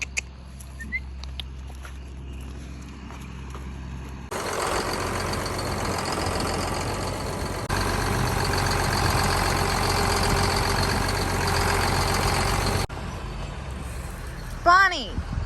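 A truck pulling a trailer on a farm idles and rumbles close by, its engine loudening for several seconds, with people talking at times and an animal call near the end.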